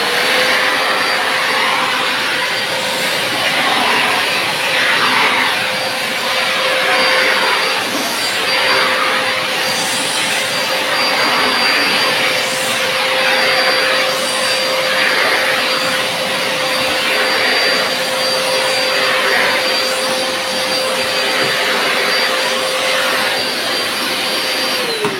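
A Parkside wet-dry injection extraction vacuum cleaner runs dry, holding a loud, steady airflow roar with a constant high whine for the whole stretch and no talking over it.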